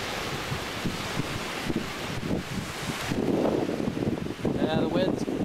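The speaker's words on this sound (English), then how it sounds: "And the wind's quieted just a little." Strong wind buffets the microphone in heavy, roaring gusts that swell and ease beside a small vertical-axis wind turbine, with some rustling and people speaking faintly under the noise.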